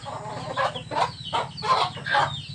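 A hen clucks among her chicks at a farm, with soft repeated clucking bursts at close range and faint high peeping around them.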